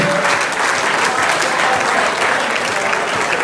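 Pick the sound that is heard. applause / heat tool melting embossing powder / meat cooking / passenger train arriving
applause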